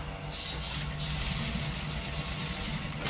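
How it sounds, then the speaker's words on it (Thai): Sewing machine stitching while the upper thread tension is being adjusted, a continuous close mechanical whir with a rapid, even rattle that runs steadily from start to finish. "เดี๋ยวช่างจะลองเย็บดูใหม่นะครับ"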